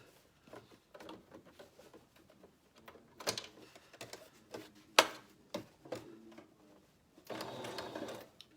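A sewing machine runs in short bursts while back-stitching a fabric face mask, with clicks and rattles between runs and a longer steady burst near the end.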